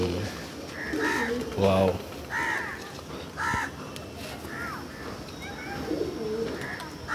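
Pigeons coo and flutter in a loft, with a busy murmur of birds throughout and a crow-like caw now and then, while someone speaks briefly over them.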